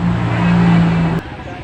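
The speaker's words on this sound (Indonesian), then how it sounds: "Dan di sini macet banget, guys." Cars stuck in a traffic jam near the Keraton Yogyakarta give a close, steady low engine drone that cuts off abruptly.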